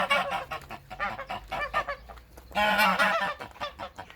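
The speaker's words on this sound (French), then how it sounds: "Le jar qui couvre les œufs." Gander sitting on eggs in a rural French garden, honking in a series of harsh, nasal calls, with a longer louder burst in the middle, fairly close and without speech.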